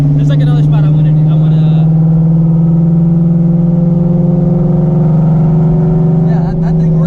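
An 800-horsepower Shelby GT350 pulls hard under load, a loud sustained engine drone with a steady rising tone filling the cabin, with brief voices near the start and end.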